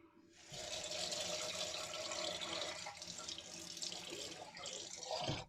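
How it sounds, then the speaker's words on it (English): Cold tap water running to wet a Gillette Super Slim Twist razor, a steady hissing stream into a sink that holds for several seconds and then cuts off, with no one speaking. "So we'll wet this with cold water."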